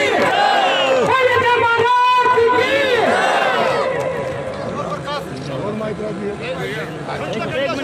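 A crowd at a village panchayat welcome for the Jhunjhunu MP in Tatija cheers and shouts loudly with dense, overlapping voices. The noise is strongest early on and eases slightly toward the end.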